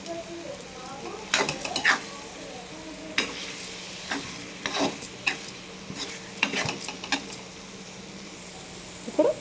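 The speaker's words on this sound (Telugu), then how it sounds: "ఇప్పుడు ఇందులోకి ఎగ్స్ని వేసుకుందాం వేసి ఒకసారి కలుపుకుందాం" Sizzling frying as eggs are stirred into dried fish, with repeated scraping and stirring clatter of a utensil against a pan, sharp metallic taps scattered throughout.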